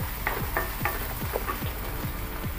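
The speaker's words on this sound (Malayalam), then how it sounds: "നമുക്കിതൊന്ന് വഴറ്റി കൊടുക്കാം. ഇപ്പൊ ജസ്റ്റ് ഒന്ന് വാടി വന്നാൽ മാത്രം മതി." Ingredients for chicken kothu chapati sizzle and fry in a pan while being sautéed, with a steady frying hiss and regular scraping stirs of a spatula, close and continuous with no talking.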